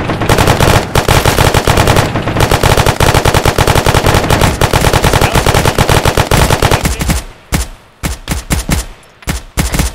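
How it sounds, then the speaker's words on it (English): Heavy machine gun fire in a military video game rattles out in loud, sustained automatic bursts for about seven seconds, then breaks into shorter, separated bursts with brief gaps. No one speaks. "God, the MG HMG fires are good."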